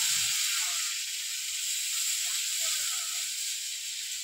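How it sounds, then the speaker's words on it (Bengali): Spice-paste water hitting a hot pan of fish and cauliflower curry, giving a steady, close, fairly loud sizzle and hiss that runs unbroken throughout with no talking. "মশলা বাটা জলটা আগে দিয়ে দিচ্ছি।"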